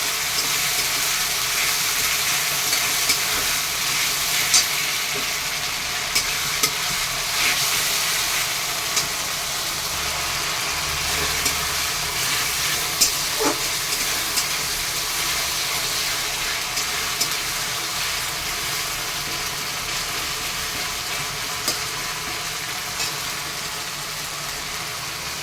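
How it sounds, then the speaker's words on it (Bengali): Ginger-garlic paste fries in oil in a pan, giving a steady, even sizzling hiss with a few faint scattered clicks and no voices. "এটা একটু কষিয়ে দিই"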